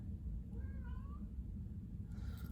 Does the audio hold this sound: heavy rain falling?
no